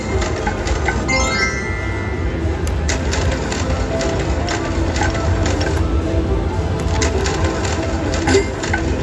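A Cash Machine slot machine at Yaamava casino, played at a $10 max bet, whirs and ticks with a continuous mechanical rattle. The sound sits within steady casino background noise, with some talk mixed in.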